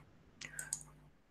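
A single quiet computer mouse click on an Apply button in modelling software, a couple of short close ticks against a faint background hum.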